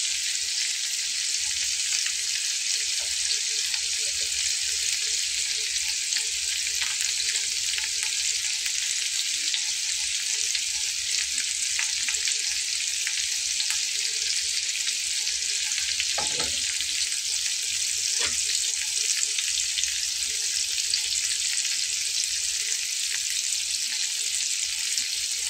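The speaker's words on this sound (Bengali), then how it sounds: "আমি উল্টে পাল্টে একটু খুব ভালো করে ভাজা করে নেব।" Pangas fish fries with eggplant in a pan, a steady, moderately quiet sizzle with occasional faint pops and clinks of stirring, with no voices.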